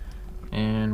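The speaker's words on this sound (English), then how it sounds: "and hear the fuel pump." Fuel pump of a Nissan R33 priming with the ignition switched on, a steady electric hum that starts abruptly halfway through and holds loud and even to the end.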